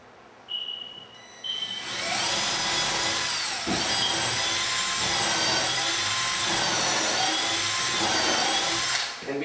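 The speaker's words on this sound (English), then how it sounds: "Just pay attention to where you're drilling." Power drill boring a pilot hole into a wooden cabinet post during cabinet installation, a steady close whirring grind running continuously for several seconds after brief start-up bursts, with no talking.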